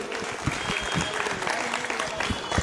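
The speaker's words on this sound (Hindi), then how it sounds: "एक बार जोरदार तालियां" Brisk crowd applause at a political thank-you rally after a Mumbai municipal election, many hands clapping together in a short, dense burst with a few sharper claps standing out.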